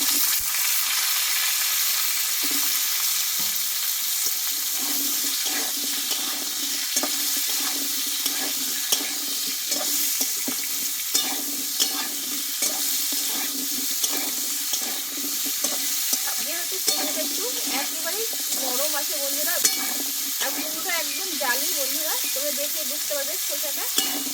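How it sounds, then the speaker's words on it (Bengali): Radish and pumpkin stir-fry in oil with panch phoron and a bay leaf, giving a loud constant sizzle broken by frequent scraping stirs of a spatula against the pan, with no talking. "এবার এখানে মুলো আর কুমড়োটা আমি একসঙ্গে ভালোভাবে কষিয়ে নেবো"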